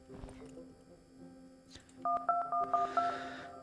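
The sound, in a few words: telephone number being dialed in a video game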